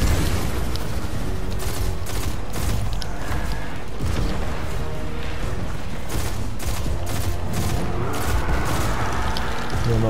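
Grenade blasts and gunfire in the video game Destiny 2 come as dense bursts of shots and booming impacts, loud and continuous, with sharp cracks scattered throughout.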